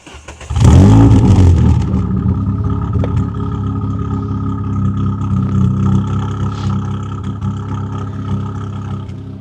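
A car engine cranks and fires up loudly close by, flaring in a quick rev before settling into a rumbling, slightly uneven idle that holds steady for several seconds.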